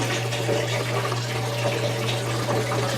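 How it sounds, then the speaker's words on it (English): Water rushes steadily through household plumbing fed by a well, just after a water softener has been installed, a continuous close hiss and gurgle over a low constant hum, with no voices. "And you hear a lot of running water, but so far there's no leaks."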